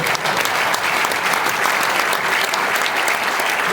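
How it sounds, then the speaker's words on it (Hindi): Loud, sustained applause from a large live audience at a stage poetry performance, a dense steady wash of clapping from start to finish with no talk over it. "और आपकी भरपूर तालियां चाहूँगा"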